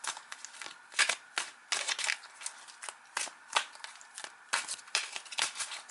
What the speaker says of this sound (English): Let's give these cards a good shuffle.